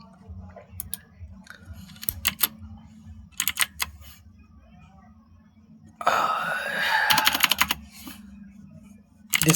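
Bursts of fast typing on a computer keyboard during app design work, crisp close clacks in clusters with pauses between, growing denser and louder toward the end over a low background hum.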